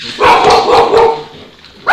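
A dog barks several times in quick bursts, fairly close and loud, inside a room during a live-streamed Saturday morning Shabbat service.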